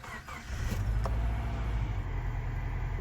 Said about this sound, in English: Let's fire this bad boy up.